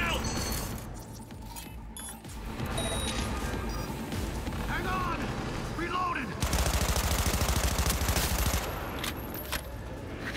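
SMG fire in Cyberpunk 2077, as dense, continuous rapid bursts that run over several seconds and swell louder near the end, set in a busy game soundscape with someone talking over it.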